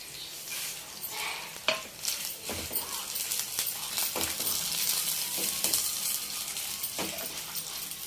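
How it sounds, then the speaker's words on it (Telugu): Coriander seeds, chana dal and sesame seeds frying in a pan, a steady soft sizzle with intermittent scraping and stirring clicks. "బాగా వేపుకోవాలి. మాడనీయకుండా వేయించుకోవాలి."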